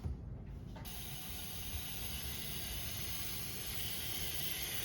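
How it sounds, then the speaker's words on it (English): Steady pressurised air hissing from a boost leak on a Sea-Doo 325 jet ski under a compressor test, a continuous broadband rush with a low rumbling bed, close and unchanging for the whole stretch. "Yep, we have a new leak. Listen for that."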